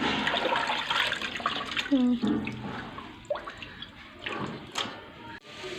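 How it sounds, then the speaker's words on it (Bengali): Raw meat being washed with water from a bucket: splashing, dripping and sloshing come in uneven bursts close by, and voices are heard among the water sounds. "মাংসগুলো একটু ধুয়ে নেচো আরও আছে বালতিতে"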